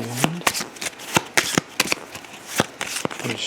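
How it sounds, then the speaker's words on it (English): A deck of action cards for a tabletop game is shuffled by hand, a rapid series of crisp riffling bursts and soft slaps, close and fairly loud with no talking. "Okay, so here is his action deck. We're going to shuffle it all in there."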